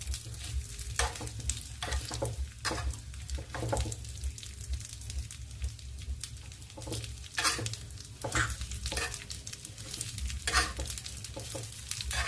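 Mawa being stirred and roasted in a pan over a low gas flame, a steady close sizzle with repeated scraping stirs throughout.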